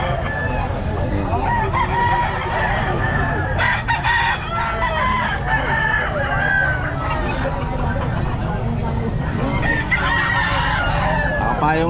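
Many gamefowl roosters crow and hens cluck at once at a market in the rain, a dense continuous racket of overlapping calls, loud and close, with people talking underneath.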